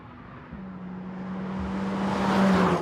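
A Mercedes A45 AMG hot hatch drives past, its engine note droning steadily and swelling louder toward the end as it accelerates close by, with no talk.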